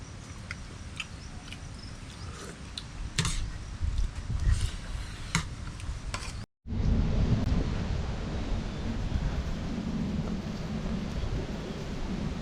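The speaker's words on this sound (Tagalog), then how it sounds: "Ayun ang hangin na malakas, ayun oh." Strong wind blowing after weeks of rain, a steady broadband roar buffeting the microphone with gusting swells and brief sharp knocks, cutting out for a moment midway before surging back loud and continuous.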